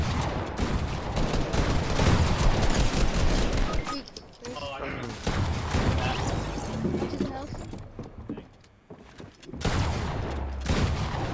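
Rapid bursts of gunfire from the video game Fortnite crackle densely for several seconds, pause, then resume in loud volleys, with brief quieter gaps between bursts.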